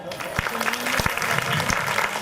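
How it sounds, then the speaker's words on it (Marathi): Audience applause at a Diwali Dipotsav cultural program, honoring a performer's mother: a steady wash of clapping across the whole stretch, with a few sharp louder claps and faint voices mixed in. "माझ्या आईसाठी टाळ्या उद्या."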